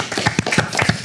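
Close, loud hand clapping from a small audience at a live music studio session, a quick rhythmic run of sharp claps over about a second.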